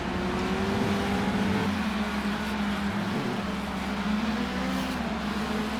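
A line of race cars circulates on a circuit under a caution flag in Adelaide, engines droning steadily and loudly with shifting pitch as they pass close by, no talk.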